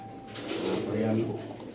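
Pigeons coo softly nearby in low, throaty bursts under someone talking.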